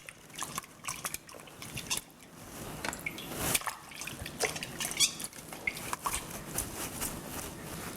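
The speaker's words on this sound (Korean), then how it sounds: "물에다 헹궈." Cleaned abalone being rinsed under water in a kitchen, soft irregular splashes, drips and wet handling sounds, close and fairly quiet.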